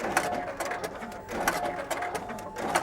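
A label applicator machine puts labels on floppy disks, giving fast repeated mechanical clacks and whirs in a steady chattering rhythm, close and fairly loud.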